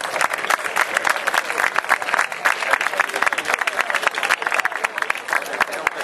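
Lively crowd applause for Eduardo Estein at an outdoor asado gathering, close and loud with rapid overlapping claps continuing steadily throughout.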